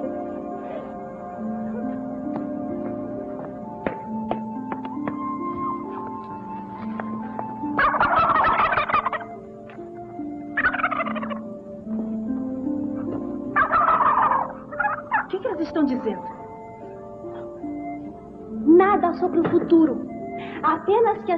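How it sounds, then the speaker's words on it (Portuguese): Turkeys gobble in several loud, warbling bursts, close by, separated by stretches of talk and backed by a steady drone. "Muito simpáticos esses tais perus"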